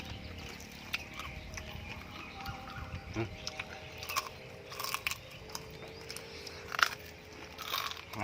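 Crispy fried pork is bitten and chewed close up, with scattered crunches of uneven strength over a quiet, busy background and faint voices.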